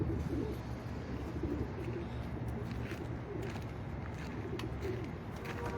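Breeder pigeons coo in an open loft in the early morning, a steady layered murmur of several birds close by, continuous with no talking.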